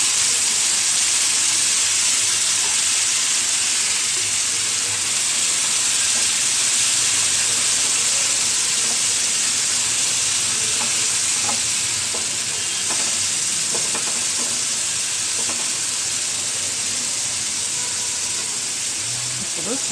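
Boiled potato pieces fry in hot oil with a steady, loud sizzling hiss that runs throughout, with faint stirring clicks under it.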